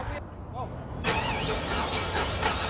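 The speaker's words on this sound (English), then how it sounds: "So with the supplemental fuel, you go ahead and crank it up." A Chevy Silverado engine cranks on supplemental fuel, with a loud, continuous close-up cranking and running noise that takes over after about a second of quieter sound, and a person talks briefly at the start.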